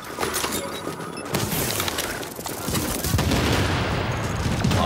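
Dense, continuous gunfire in the shooter game Tom Clancy's The Division, rapid overlapping automatic bursts and impacts, loud and sustained, with occasional voices mixed in.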